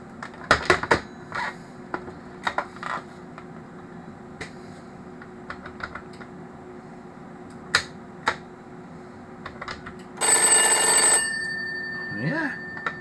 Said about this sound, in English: So that's got a bell in it.